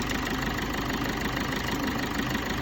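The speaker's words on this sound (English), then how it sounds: "the engine sound just changed" A Maruti Suzuki Vitara Brezza diesel engine idling steadily, a low even rumble with a faint rhythmic knock, constant throughout with no talking.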